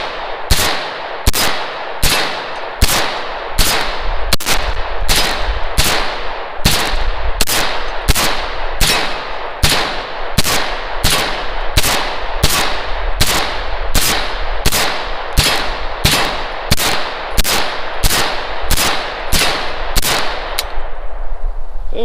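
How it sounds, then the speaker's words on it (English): Rifle shots fired with a shell catcher attached, a steady run of about thirty sharp loud reports spaced roughly every half to one second, ringing out alone with no talking. "We're gonna take a few shots and see what we get."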